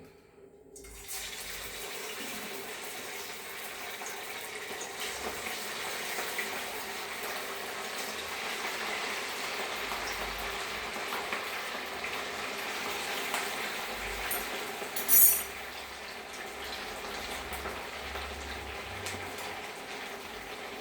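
Sabudana vadas fry in hot oil in a kadai on a gas stove, giving a steady, continuous bubbling hiss that holds evenly throughout, with a brief louder crackle midway.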